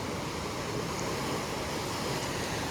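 Ocean surf at Murudeshwar beach in Karnataka, a continuous broadband roar of breaking waves with some wind, loud and steady throughout, with no voices.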